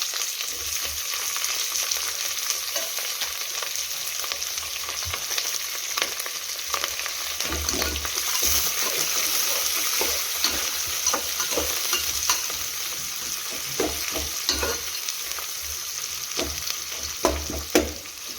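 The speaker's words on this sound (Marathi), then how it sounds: "कांदा हलकासा फ्राय करून घेऊया" Green chilli and sliced onion frying in hot oil with whole spices, giving a steady close sizzle with scraping stirs throughout and a few louder clatters near the end.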